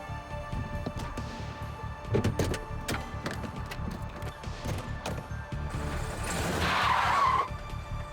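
A stolen car speeds off with screeching tires, a drawn-out squeal building near the end over engine noise and scattered knocks, moderately loud and close.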